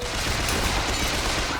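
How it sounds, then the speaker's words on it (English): Revolver gunfire from the video game Bioshock Infinite sounds as a loud, dense burst of shots and impacts that fills the whole moment, up close, with no talking over it. "This revolver is just super satisfying."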